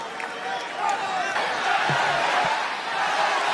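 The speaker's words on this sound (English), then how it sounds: "the crowd rallying." Arena crowd noise at a WWE wrestling event in California, a steady loud roar of many voices swelling and holding throughout, with scattered shouts rising from the mass.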